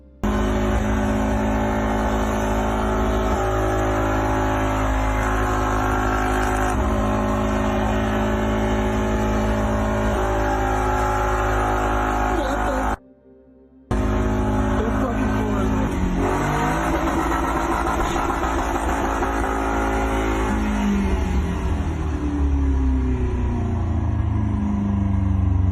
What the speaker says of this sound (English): For some reason, the man keeps on revving despite his entire car being ablaze.